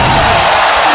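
An arena crowd at a Brock Lesnar versus Heath Herring fight roars loudly and continuously, a dense wash of chanting voices filling the space.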